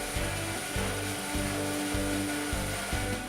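A Hammer N4400 bandsaw rips upright through wood parts, giving a loud, steady machine whine with a throbbing low rumble that pulses in regular beats, with no talking.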